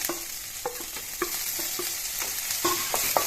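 Ginger garlic paste fries with fish and greens in a pan for an Assamese dish, a continuous close sizzle broken by regular scraping strokes of a spatula stirring the mixture.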